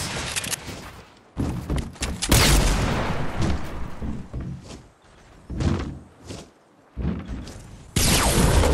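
Bursts of gunfire from the video game Fortnite crack out in irregular clusters, some loud and sharp, others muffled booms, separated by brief quiet gaps, with no voices.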